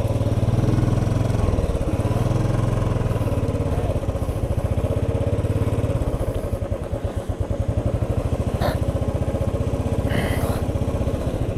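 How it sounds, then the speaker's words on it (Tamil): Motorcycle stuck and sinking in beach sand at Kanyakumari, its engine revving and chugging steadily up close with a rough, pulsing beat, loud and continuous, dipping briefly midway before picking up again. "உள்ளக்கு மண்ணுக்குள்ளே போகுது வண்டி."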